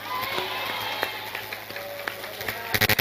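An audience at an Indonesian religious gathering breaks into applause, with clapping rising sharply at the end over a busy room murmur.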